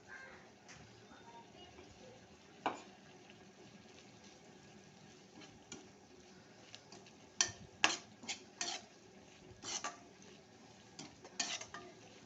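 Spatula stirring cabbage fried rice in a pan, with scattered scraping clinks and taps against the metal that grow busier toward the end, moderately close over a low steady background.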